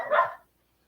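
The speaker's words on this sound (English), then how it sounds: "Wish those dogs would hush." One short bark from farm dogs, a single sharp yelp that cuts off quickly, with no voices around it.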